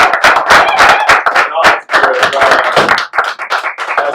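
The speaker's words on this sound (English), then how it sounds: "Let's clap for y'all." Audience members at a podcasters event clap in loud, close, uneven bursts, with individual hand strikes standing out against a lively crowd and brief gaps between flurries.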